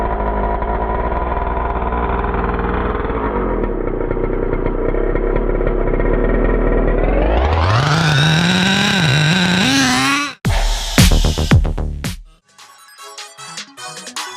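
A nitro Traxxas Revo 3.3 RC car engine with the stock exhaust runs loud and steady, then revs sharply upward into a high buzzing whine before cutting out and sputtering back in bursts.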